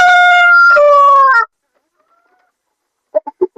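Rooster crowing loudly and close, one long drawn-out call with a rising then falling tail, followed after a pause by a few short clucks from chickens on a home terrace.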